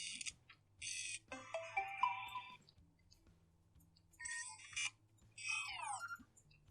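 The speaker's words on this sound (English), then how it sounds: "Next, we also have camera pop-up sounds." Camera pop-up tunes on a Vivo V17 Pro phone: several short electronic melodic jingles play one after another, separated by brief pauses, clear and close over a faint low hum.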